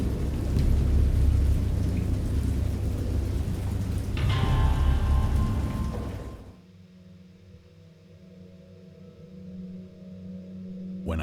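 Stormy rain and rolling thunder from the horror game Dagon, a dense loud downpour with deep rumbling that cuts off abruptly to a quieter low drone and faint dripping.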